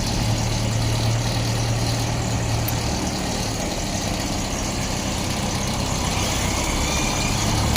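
Used Manitou MT-X 732 telehandler with a Perkins diesel engine idling, a steady low rumble with even mechanical clatter, close and constant throughout.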